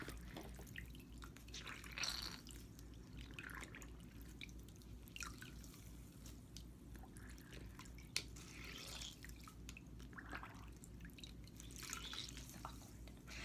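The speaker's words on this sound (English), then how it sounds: "we're going to dip it in there. And we're going to just soak up some of the water." A damp makeup sponge, a beauty blender, dipped and soaking in a bowl of water, giving faint, sparse drips and small watery trickles over a quiet room background, with no talking.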